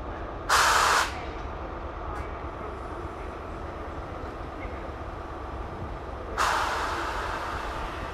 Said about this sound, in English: Country service to Plymouth is just coming in over there. The 221138 Super Voyager.